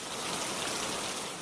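Steady rain falls in a dense, even hiss of drops striking a surface, loud and continuous with no talk.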